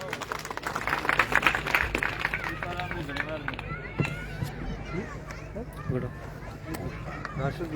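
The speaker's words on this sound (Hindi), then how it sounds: "दीपाराम जी का जोरदार तालियों से भी अभिनंदन" A village crowd at a live religious gathering in Charkhara, Bikaner, claps loudly to welcome the sarpanch Dipa Ram. A dense burst of clapping comes first, then thins into scattered claps, with voices and chatter throughout.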